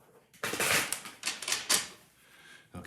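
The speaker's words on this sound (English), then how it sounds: "let me shuffle these up a bit." A deck of cards is shuffled by hand in a few quick, crisp riffling bursts, close and fairly quiet, with no talking.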